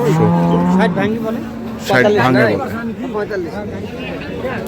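Dairy cows at a cattle market low loudly and close by, with long moos rising over a crowd of people talking and haggling.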